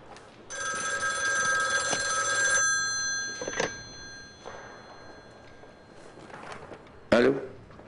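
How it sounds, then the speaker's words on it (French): An old-fashioned telephone bell rings urgently in an office, a long sustained metallic ring for about two seconds followed by shorter bursts, with a faint voice and background noise underneath. "Il n'est pas sitôt revenu à son bureau qu'un téléphone urgent l'attendait."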